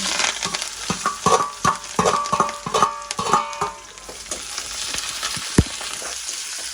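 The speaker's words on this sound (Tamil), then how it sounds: "எண்ணெய் ஊற்றிட்டு கடுகு, பெருஞ்சீரகம், வெங்காயம் எல்லாம் போடுவோம்" Mustard seeds, fennel and onion fry in hot oil, crackling and sizzling up close. Irregular bursts of popping and spoon scrapes come through, and the sound eases off after a few seconds.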